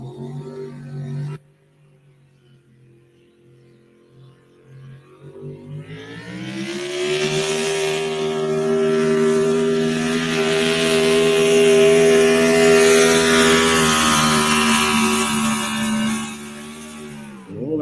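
A Mopar-powered 4x4 Patriot Wagon at the Nebraska State Fair idles with a low rumble after a short blip, then its engine revs up loud and holds a steady roar for about ten seconds before easing off.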